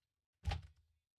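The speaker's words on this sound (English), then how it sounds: "Why is our door not closed?" A studio door swings shut with a single dull thunk that rings briefly and fades, heard alone against near silence.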